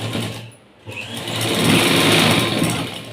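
A sewing machine runs steadily, stitching half-inch tucks into a straight-cut blouse, its motor whirring close and loud after a brief pause near the start.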